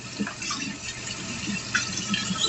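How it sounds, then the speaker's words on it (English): Water running from a tap while hands are washed in a kitchen: a steady, close hiss of flowing water with light splashing and a few small clinks, heard alone without talking. "Let me wash off my hands real quick."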